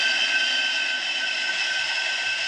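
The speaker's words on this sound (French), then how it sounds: "On sort le train d'atterrissage." Jet airliner cabin drone from a Boeing 787 in a flight simulator game, a steady, loud, even roar with no distinct mechanical clunk of the landing gear standing out.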